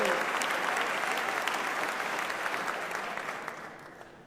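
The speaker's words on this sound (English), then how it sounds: "I'm glad you're cheering for our Nobel winners." Audience applause with some cheering at a state governor's State of the Commonwealth address in Massachusetts, a dense sustained clapping from a large crowd that gradually tapers off.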